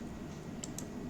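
Typing a web address on a computer keyboard: a couple of quick, crisp key clicks close up in a quiet room, brief and spaced slightly apart.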